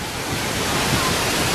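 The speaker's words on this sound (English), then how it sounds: "So it pours off the top and the other fountain part" Water pours and splashes steadily from a large seashell fountain with two mahi-mahi figures at a resort, a close, dense, unbroken rush throughout.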